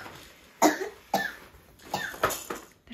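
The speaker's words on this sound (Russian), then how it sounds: "Да что вы кашляете?" Indoors during a family Christmas gathering, a child coughs five or six times in short, sharp bursts spaced about half a second apart, close and fairly loud against quiet room tone.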